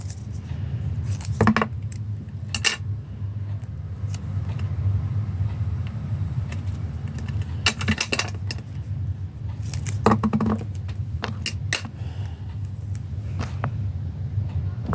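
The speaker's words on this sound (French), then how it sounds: "Je vais prendre mes ciseaux." Close metal scissors click and snip while cutting a paper Halloween card, giving scattered sharp bursts of handling and cutting sounds over a low steady background hum.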